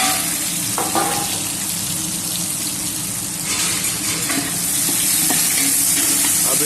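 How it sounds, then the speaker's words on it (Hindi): Chopped onions fry in hot oil with cumin, producing a loud, continuous close sizzle with a few crackles and stir scrapes, no voices present. "ब्राउन होने तक भून लेंगे ऑनियन को"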